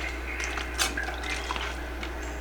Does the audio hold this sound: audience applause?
no